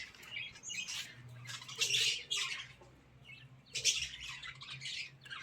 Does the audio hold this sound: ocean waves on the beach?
no